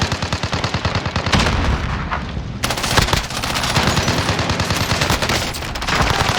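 Rapid automatic gunfire in Call of Duty Warzone rattles in sustained bursts, loud and close, with dense overlapping shots and brief pauses, no talking.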